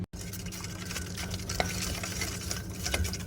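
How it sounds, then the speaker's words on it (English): A spoon stirs raw shrimp with herbs and spices in a bowl for shrimp kebabs, giving a steady, close, wet scraping and squishing that runs continuously. "I'm going to mix this around and then add my shrimp to this."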